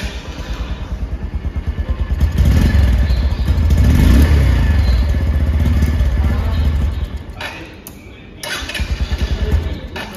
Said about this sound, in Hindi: तो चलिए करते हैं स्टार्ट इस बाइक के इंजन को।